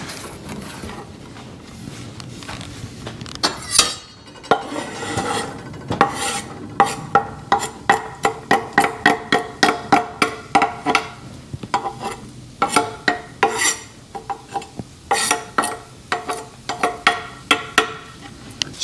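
Chopped onions going into hot oil in a pan and cooking, with a steady sizzle under repeated rhythmic scraping and stirring strokes, close and fairly loud, with no talking.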